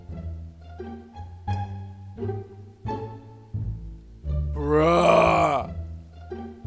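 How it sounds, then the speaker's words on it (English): An Anjanath monster in Monster Hunter: World snores in deep, rhythmic groaning rumbles, building to a louder, rasping snort near the end, with a short word spoken briefly. "I hear snoring. What is that?"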